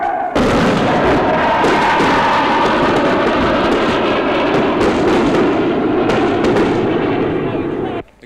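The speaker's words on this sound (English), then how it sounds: "Firing rockets at what we assume is a new army colony on the south of the town." Rockets fired during the 1971 Bangladesh war of independence, launched at an army position south of a town: a loud, continuous roaring rush of blasts that holds for about eight seconds, then cuts off abruptly.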